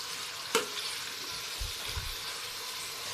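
Onion being stirred and sautéed in a pan, a soft steady frying hiss with one sharp utensil clack near the start and a couple of low scraping thumps later, no talk.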